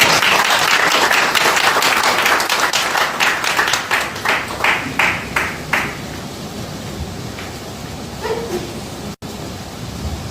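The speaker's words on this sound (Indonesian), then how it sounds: "mari kita sambut dengan tepuk tangan Ibu Dani Marita" An audience at an evening family-interaction talk show in East Java bursts into loud, dense applause that thins into scattered, fading claps and dies out after about six seconds.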